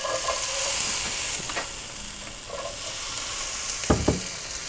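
French fries sizzle and fry in a pan with only a little oil left from earlier cooking, a steady close crackle with a few brief stirring scrapes and soft clinks, no talking.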